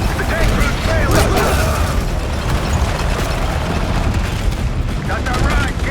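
A T-72 tank in the Call of Duty Black Ops 6 campaign, a heavy continuous mechanical rumble and clatter amid distant booms and battle noise, loud throughout.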